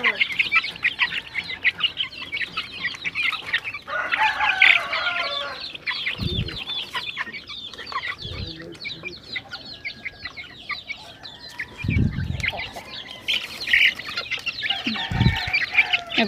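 Rhode Island Red and native chickens cluck busily in a breeding pen, with a rooster crowing loudly nearby several times, and low thumps and handling noises in between.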